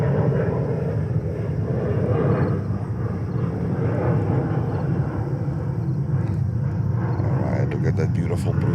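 Delta airliner landing on runway 22 left at New York's JFK, a broad, even jet rumble filling the background while a voice talks over it almost throughout.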